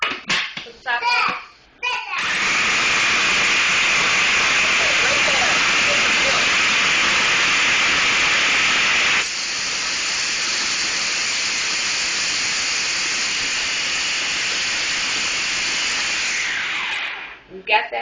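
A food processor grating cheese runs as a steady, loud whirring roar for about fifteen seconds and shifts slightly in tone partway through, with brief talking and handling noises just before it starts and after it stops.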